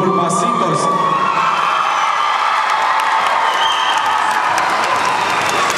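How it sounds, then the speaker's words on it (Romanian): A dance contest audience applauds and cheers for the Masitos group at a winter dance festival, a loud, dense, continuous wash of clapping with shouts and whoops from a big crowd. "Ia să vedem cine aplaudă mai tare pentru grupul Masitos"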